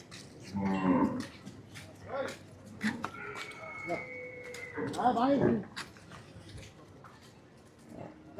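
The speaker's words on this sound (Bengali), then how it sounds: "এটা জাফরাবাদী মহিষ সুন্দর একটি জাফরাবাদী মহিষ" A Jafarabadi buffalo moos in a low, drawn-out call, with a second moo a few seconds later among a farm's background bustle. People talk nearby, and a brief whistle-like tone sounds in between.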